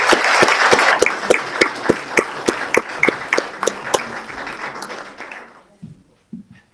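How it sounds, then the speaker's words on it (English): Audience applause closing a live debate for the Utah County Assessor race, a dense run of clapping that thins and fades out by about five and a half seconds, leaving a few scattered claps and near silence. "Let's give them one more round of applause."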